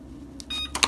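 An oven's control panel emits a few short electronic beeps while being set to preheat to 400 degrees for baking a vegan lemon cake, with quiet room hum between the tones.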